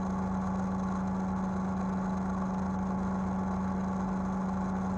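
A Challenger II light sport aircraft engine during a fast climb, a loud, constant droning hum with a strong steady tone, unbroken and with no talk.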